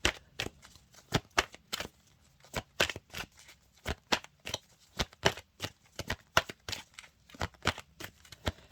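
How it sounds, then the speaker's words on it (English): A numerology card deck is shuffled by hand, giving a long series of crisp, close riffling snaps and flutters in an uneven steady rhythm with no talking. "So I'm just going to pull a card from the numerology deck."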